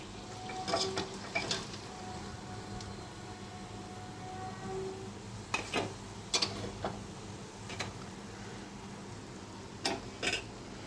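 Potato chops (aloo chop) frying in oil in a home kitchen: a soft continuous sizzle with scattered sharp clicks and taps of a utensil against the pan, fairly quiet and with no talk.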